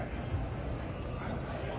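A person imitates a cricket chirping with four short, evenly spaced bursts of high trilling chirps, clear and fairly close, standing alone against faint room noise.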